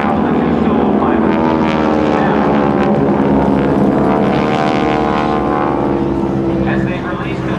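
Propeller airplanes of the GEICO Skytypers team roar loudly and steadily overhead at a 2006 naval air station airshow, a continuous droning engine sound with an announcer's voice talking over it throughout.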